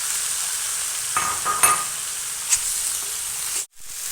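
Steady hiss of onions and tomatoes sizzling in hot oil, with a few soft stirring scrapes and clinks of a utensil against the pan, close by.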